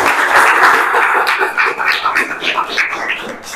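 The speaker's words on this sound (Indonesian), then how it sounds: "Kasih tepuk tangan buat Levi." Classroom audience of vocational school students gives a short round of clapping, loudest at the start and then tapering into scattered irregular claps over a few seconds.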